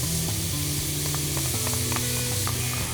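Corn tipped into a hot pan of sautéing finely sliced leeks, celery and garlic for a chowder, giving a steady close sizzle with scattered light clicks and scrapes, no voices.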